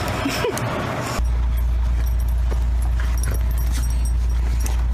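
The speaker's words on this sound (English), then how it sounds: "a bed full of dogs." Several dogs lying on a bed whimper and make small yips, soft brief sounds over a steady low hum, loud and close.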